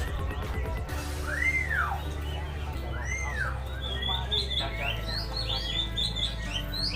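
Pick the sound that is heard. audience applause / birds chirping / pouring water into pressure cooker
birds chirping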